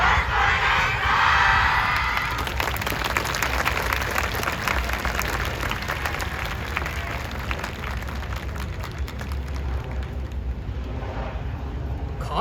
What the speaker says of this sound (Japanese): どうぞ皆様ご声援手拍子